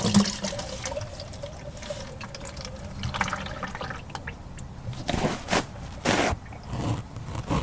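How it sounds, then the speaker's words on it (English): Engine oil drains from a second-generation Dodge Cummins, a rushing, gurgling stream that swells into louder splashing surges near the end, heard close with no talk. "So right now I'm gonna get my oil draining"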